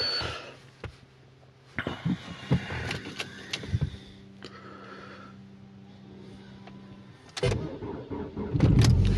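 Car engine being started in very cold weather: scattered clicks and thuds, then a steady whirring hum while it cranks, before the engine catches with a louder, rougher burst near the end.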